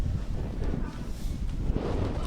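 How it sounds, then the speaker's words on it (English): Gusting wind buffets an outdoor microphone at a men's 15s rugby union match, Albay Bulkans versus Eagles RFC in the Luzon Cup, making a steady low rumble that fills the whole moment. "It's still windy today"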